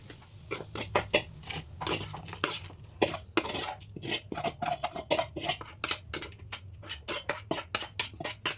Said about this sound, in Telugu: రెండు నిమిషాల తర్వాత ముక్క తీసేసుకొని నీట్గా ఈ విధంగా మిక్స్ చేసుకొని